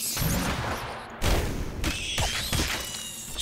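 A pirate firing a gun in Legend of Grimrock 2: a few sharp, booming bursts separated by brief pauses, with layered impacts and clatter from the combat around them.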